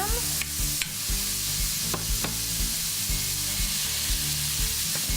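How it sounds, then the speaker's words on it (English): One pound of ground beef browns in a hot pan, a loud continuous sizzle broken by repeated clattering scrapes of a utensil stirring and moving the meat around. "I'm going to start by browning my 1 pound of ground beef into my nice hot pan."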